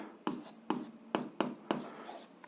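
An equation is handwritten in quick pen strokes: five distinct scratchy taps at a brisk, regular pace, close and clear with no voice over them.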